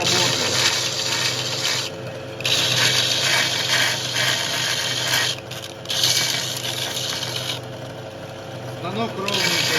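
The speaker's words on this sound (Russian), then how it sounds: "Станок ровненько идет." A homemade belt grinder runs with a loud, steady motor drone and belt hiss, the tone dipping and rising as a threaded rod is pressed against the belt in short passes.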